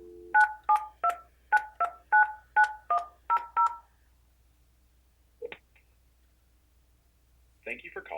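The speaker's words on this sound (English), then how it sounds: "from here I just dial the number I'd like to call." A run of nine crisp DTMF keypad tones dials a number on an Alcatel-Lucent ALE-400 desk phone, evenly spaced beeps close and clear, followed by a faint click and a short burst of ringback or voice.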